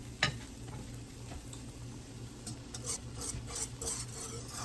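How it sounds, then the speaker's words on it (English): A whisk scrapes and stirs in a pan of leftovers in a kitchen, soft rasping strokes with a few sharp clinks, quiet and close with no talk. "Now I'm gonna go ahead and use my whisk."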